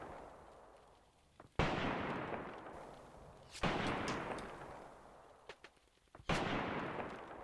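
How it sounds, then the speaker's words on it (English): Rifle fire from a tank loader in the World War II tactics game Graviteam Tactics, set in forest fighting: three sharp shots spaced a couple of seconds apart, each with a long rolling echo that fades slowly. No talk is heard. "look at this loader engaging with his rifle"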